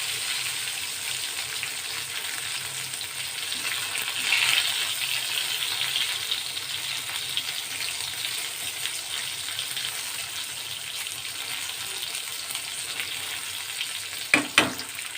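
Brinjal and potatoes fry in a pan for a brinjal curry made without onion or garlic, a steady soft sizzle throughout, with a couple of sharp clinks near the end.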